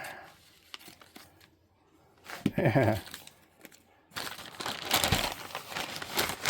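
Crinkling and snipping of packaging at close range as scissors open a package, with a burst of cutting around the middle and louder rustling toward the end.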